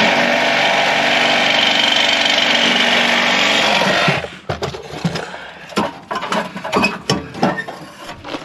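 Jeep engine with the muffler removed, a loud continuous raw roar that cuts off abruptly midway, followed by scattered clanks and mechanical rattles.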